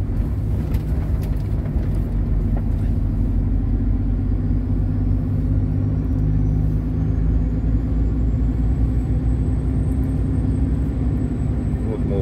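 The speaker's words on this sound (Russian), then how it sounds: "Вот мы уже по новой дороге поехали" Car driving along a new road between Perm, Kukushtan, Kungur and Suksun in Russia's Perm region, a steady low in-cabin road rumble and tire noise running continuously and evenly throughout.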